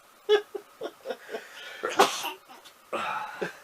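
A series of short, sharp nasal bursts, with one strong sneeze in the middle and smaller cough-like bursts around it, close by.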